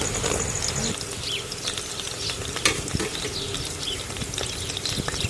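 Onions and green chilies frying in hot oil for a Telangana fish curry crackle and sizzle steadily, with scraping stirs and a few sharp pops, close and moderately loud.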